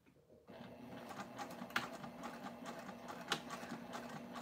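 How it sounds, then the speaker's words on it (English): A sewing machine run by foot pedal at a 2.5 stitch length, stitching a fabric rectangle, giving a steady mechanical whir with clicks and small louder ticks throughout, close and moderately quiet. "now let's sew our rectangle"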